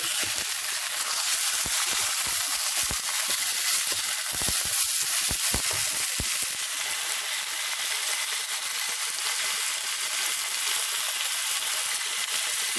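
Vegetables, meat and mustard simmering in a pan give a steady, even sizzle and hiss, with a few soft knocks early on and no voices.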